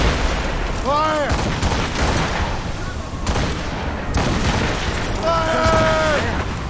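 Ship cannons fire a volley in Assassin's Creed Rogue, heavy repeated booms and crackling gunfire in a loud naval battle, with shouted voices breaking through between the blasts.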